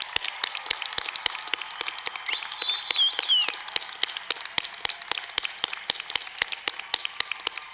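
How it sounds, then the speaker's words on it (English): A crowd at a university graduation ceremony claps in scattered, sharp, evenly spread bursts that hold steady throughout, with a brief high whistle or cheer partway through. "Give another round of applause here."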